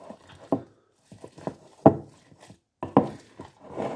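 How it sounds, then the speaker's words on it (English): A knife chopping an onion on a wooden board for Cornish pasty filling in a home kitchen, several distinct sharp thuds spaced irregularly, fairly close and moderately loud. "so we're going to chop up an onion"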